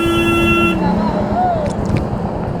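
A vehicle horn blares in one steady blast for under a second on a road during a motorbike ride out of Kolkata, followed by road noise and a voice.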